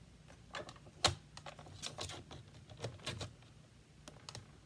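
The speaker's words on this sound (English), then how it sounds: "So first I'm going to cut it once, then I'll go back down and cut it again." Craft paper is cut along a template line, producing a series of small crisp scraping and clicking strokes at close range, irregular and fairly quiet, with one sharper snap near the start.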